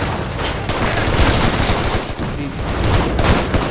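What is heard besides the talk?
gunshots from a rifle in the video game Shadow Ops: Red Mercury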